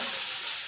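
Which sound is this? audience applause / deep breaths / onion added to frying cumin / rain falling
onion added to frying cumin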